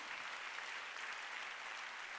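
A church congregation claps together during a sermon, a steady, even wash of applause that stays level throughout with no voices standing out.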